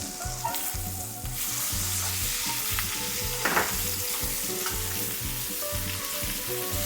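Steak sizzling loudly in a pan while being basted, a continuous close frying hiss with rhythmic spoon scrapes and splashes of fat, no talking.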